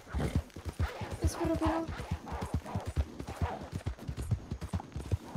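Horse hooves clip-clop steadily on the ground in Red Dead Redemption 2, a close, even trotting rhythm with a brief snort, while someone speaks over it.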